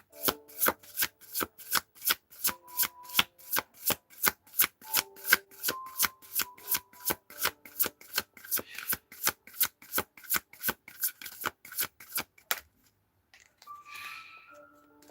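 A deck of tarot cards is riffled and shuffled in a quick, even rhythm of about two dozen crisp, close flutters, followed by a soft rustle and faint handling as the shuffling stops.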